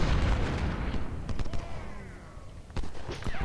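Artillery batteries firing in the Civil War strategy game Ultimate General, heard as a dense rumbling barrage followed by scattered sharp cannon reports, some distant and some closer, with no talk.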